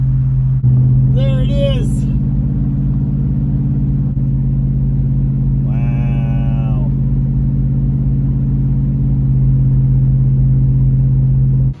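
A 1969 Dodge Charger's big-block engine drones steadily and loudly as the car climbs a mountain road, a constant low rumble under brief exclamations from people inside.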